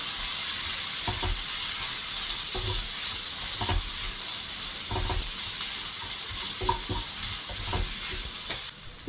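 Chicken keema and chopped egg mixture sizzles steadily in a frying pan while a utensil scrapes and stirs it in irregular strokes, close and with no talking.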